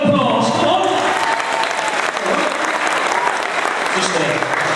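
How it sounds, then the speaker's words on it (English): A crowd at a hypnotist show bursts into loud, continuous applause and clapping, with voices and cheering mixed in throughout. "Give a round of applause, come on!"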